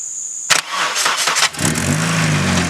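A second-generation Mitsubishi Eclipse engine cranks with a few quick starter bursts, then catches and settles into a rough, steady idle, loud and close.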